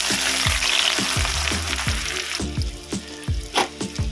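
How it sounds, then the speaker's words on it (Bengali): Chopped onions hit hot oil in a wok and crackle in a loud, close sizzle, overlaid by a steady run of spatula knocks and scrapes against the pan that eases slightly toward the end, with no talking. "কড়াই তেল দিয়েছি তেলটা গরম হয়ে গেছে আমি এবার দেব কুচিয়ে রাখা পেঁয়াজ"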